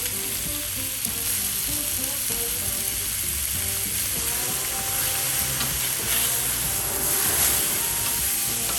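Bacon for a BBQ breakfast sandwich fries on an outdoor griddle with a dense, continuous loud sizzle and crackle, a steady hum running underneath throughout.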